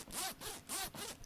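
A crotch zipper on a onesie is zipped in close, repeated rasping pulls, four quick strokes in a rhythmic back-and-forth, loud and alone.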